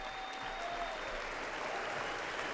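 An audience at a State of the Union address claps in a steady, dense burst of applause that holds evenly throughout.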